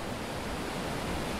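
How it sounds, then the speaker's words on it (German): Stormy sea surf on a beach near Alghero, Sardinia, whipped by strong wind: a dense, continuous roar of crashing water, loud and unbroken with no voices. "Starker Wind und aufgebrachte See treiben Seegras an die Strände"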